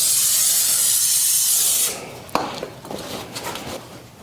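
Dense, steady hiss of spray cleaner blasting old grease off the axle of a Chevy C10 squarebody pickup, loud for about two seconds before cutting off, followed by quieter rubbing, clinks and scattered short bursts.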